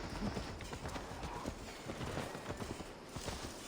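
Horse hooves clip-clop in a quick, steady rhythm, fairly quiet, continuing throughout, in the video game Assassin's Creed Valhalla.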